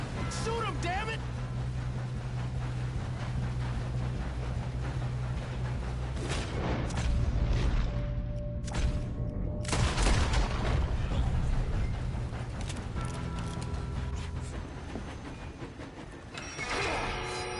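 Gunfire during a train robbery in Red Dead Redemption 2, with repeated sharp shots cracking over a steady rumbling train, busy and loud throughout, with voices speaking over it.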